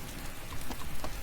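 Steady rain pattering on surfaces in the DayZ survival game, a dense even hiss of falling drops with no talk over it.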